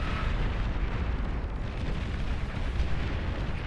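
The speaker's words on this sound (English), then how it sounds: "apparently juggernauts go thermonuclear whenever they explode" A juggernaut unit explodes in the strategy game Beyond All Reason, a sustained deep rumbling roar with a steady, dense low-end blast wash that holds throughout without distinct separate hits.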